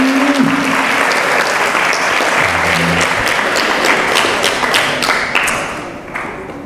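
An audience applauds loudly and densely at a religious talk, a thick sustained wash of many hands clapping that tapers off toward the end, with a brief voice underneath.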